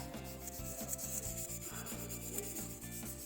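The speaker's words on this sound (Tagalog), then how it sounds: "yung number 1000 grit na liha yung gagamitin ko rito sa paglinis ng shafting rod." Fine 1000-grit sandpaper rubbing back and forth along the metal shaft of a stuck electric fan during repair, a steady close scraping rhythm with regular strokes, no talking.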